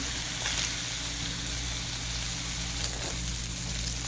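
Sausages with red and green bell peppers sizzle in olive oil in a pan, an even, close crackling fry that holds steady from start to finish.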